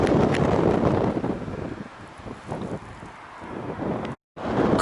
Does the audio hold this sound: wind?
yes